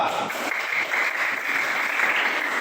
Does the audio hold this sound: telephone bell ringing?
no